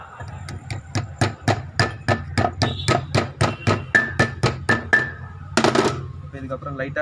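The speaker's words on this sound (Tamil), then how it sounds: "இந்த அப்பு ஆயில் சீல் தான் அடிக்கணும்" About fifteen loud, close hammer blows in a steady rhythm drive an oil seal into a Tata Sumo wheel hub, then a brief scrape, with someone speaking at the end.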